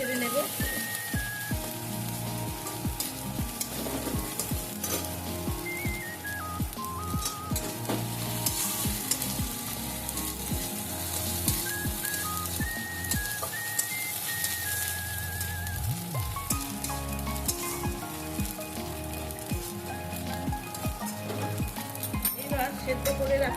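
Ginger sizzling and frying in a pan while being stirred, a steady crackling hiss with repeated scraping strokes and clinks throughout, set under background music.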